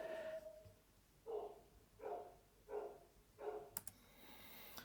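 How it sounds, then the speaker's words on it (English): A dog barks four times in a steady, evenly spaced series after a doorbell rings, sounding muffled and distant from another room, followed by a few clicks. "Somebody came and rang the doorbell and the dog lost his mind."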